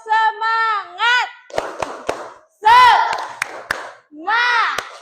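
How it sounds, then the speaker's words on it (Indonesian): A primary school class does the Indonesian 'tepuk semangat' spirit clap, sharp group claps landing in short patterned bursts between loud chanted and shouted voices. "Dengan melakukan Tepuk semangat."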